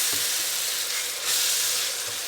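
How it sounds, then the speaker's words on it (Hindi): Mashed eggplant for baingan bharta fries in a pan on medium-low heat, with a dense, even sizzle that swells briefly midway and continues close and steady. "अब इसको भूनेंगे मीडियम टू स्लो हीट पे"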